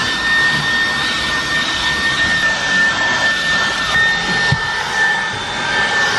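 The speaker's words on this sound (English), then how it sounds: "I'm going to give this a good vacuum out now," A vacuum cleaner drones loud and steady while cleaning out a car interior, a continuous high whine with a thin tonal hum, briefly bumped by a knock near the end.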